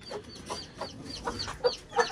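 Chickens cluck near by while being given water, a close run of short, quick clucks and squawks in an uneven rhythm, with no talk over them.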